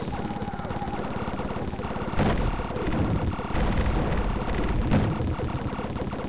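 Powerful guns blaze in the retro shoot-'em-up video game Tyrian, a relentless stream of rapid shots and booming blasts, loud and dense, with heavier impacts punching through every second or so.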